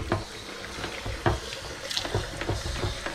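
Water runs steadily from a tap into a household sink during house cleaning, a close continuous splash with small clinks and sloshing bursts as something fills.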